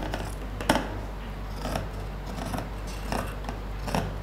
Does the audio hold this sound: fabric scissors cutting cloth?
yes